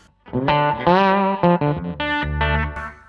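A clean bass tone played on guitar through a pedalboard with slapback echo, a short run of sustained, ringing notes with distinct attacks, loud and close.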